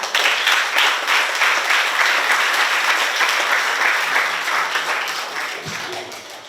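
Audience at an elementary school graduation applauding the principal and teachers, a full burst of many hands clapping that stays strong and slowly tapers, with a faint murmur underneath.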